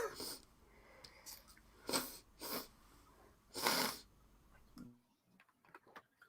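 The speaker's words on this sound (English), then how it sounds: "sorry if you can hear me sniffing there, folks" A few short, sharp nasal sniffs from a person with hay fever, spaced irregularly and close by, with quiet background between them.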